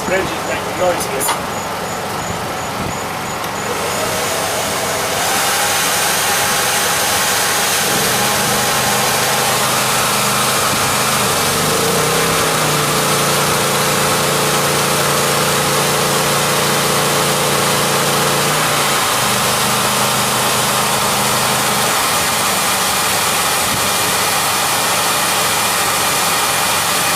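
A Honda EU2200i inverter generator fueled by propane runs steadily in eco mode, a continuous mid-loud engine drone with shifting tonal hum, while a person talks intermittently over it.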